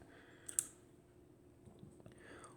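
Aperture ring on a Jena Pancolar 50mm f2 lens turned through its detents, giving a few faint, close, crisp clicks scattered over a quiet background.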